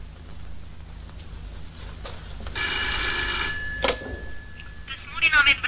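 A telephone rings in an Albanian film scene, one sustained burst of bell ringing lasting about a second, heard at moderate level among quieter room sounds and brief background noises.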